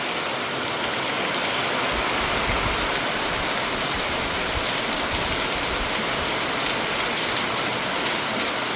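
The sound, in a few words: rain falling in a village in the morning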